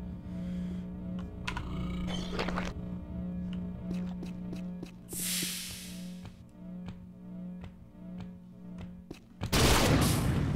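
A flak cannon fired in the video game Unreal, a rapid series of sharp percussive shots over a constant low game hum, with a couple of louder hissing bursts standing out.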